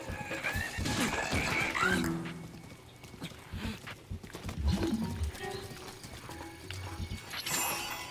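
A horse in The Legend of Zelda video game neighs loudly, followed by hoof clip-clops and a second whinny, with some game-like effects in the background.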